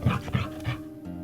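Dog in the video game Risen giving a few short yips and whimpers close up, about three quick bursts in the first second before fading into quiet ambient game sound.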